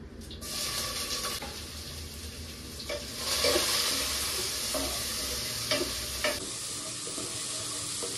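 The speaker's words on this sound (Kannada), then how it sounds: "ಈಗ ಇದಕ್ಕೆ ಬೆಳ್ಳುಳ್ಳಿ, ಹಸಿಮೆಣಸಿನ್ಕಾಯಿ, ಕರಿಬೇವು, ಈರುಳ್ಳಿ ಇಷ್ಟು ಹಾಕೋತಾ ಇದ್ದೀನಿ." Garlic, green chillies, curry leaves and onion sizzle steadily in a hot pan, with a continuous frying hiss and occasional louder stirring scrapes, close and without speech.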